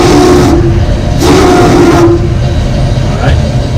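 A steam locomotive runs close by, with a loud dense rumble and rhythmic chuffing bursts under a steady whistle-like tone, heard from the cab.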